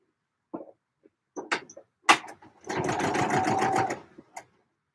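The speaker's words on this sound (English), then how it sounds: "Let's sew my first part of my French seam." A domestic sewing machine runs a first French seam on trousers: a few short bursts of stitching and fabric handling, then a sustained, close whirring run of over a second before stopping.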